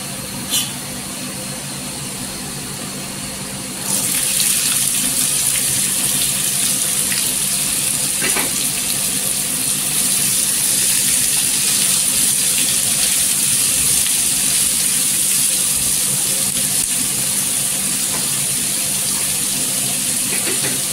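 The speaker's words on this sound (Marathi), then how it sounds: "आता इथे आपण आहे ना कांदा टाकायचा" Chopped onion dropped into hot oil with garlic already turned golden, a loud steady sizzle and frying hiss that jumps up suddenly and then holds evenly at close range with no talking.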